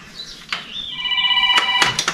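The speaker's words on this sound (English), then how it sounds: "Oh, and I've been rung again." A phone rings loudly with an incoming call: bright, electronic ringtone tones that rise and hold, broken by a few sharp knocks and clatters close by.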